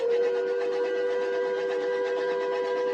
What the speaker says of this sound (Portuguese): o apito de um terceiro trem iluminado soou